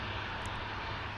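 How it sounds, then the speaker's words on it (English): A Sikorsky Black Hawk helicopter flies in the distance near DCA, its steady engine drone and rotor noise forming a continuous broadband rumble that holds at an even level, with no talking. "Got a Blackhawk there in the distance."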